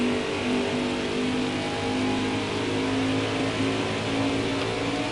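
Stock car in NASCAR Heat 4 accelerating off pit road at Charlotte Motor Speedway, a loud, steady engine drone that holds at high revs without pause, with other race cars blended into the roar.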